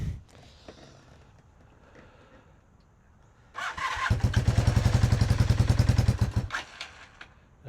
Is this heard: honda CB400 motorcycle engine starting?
yes